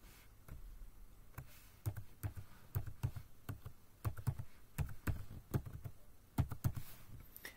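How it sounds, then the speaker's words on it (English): Rapid typing on a computer keyboard while entering a password, a quick irregular run of close, crisp key clicks and taps with short pauses between bursts. "so let me just quickly type in my password"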